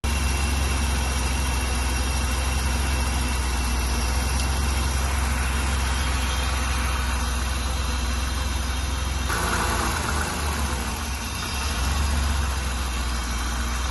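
A 1983 BMW 7-Series E23 engine idles steadily with a deep, even drone, close and continuous, with a brief shift in tone partway through and no talk over it.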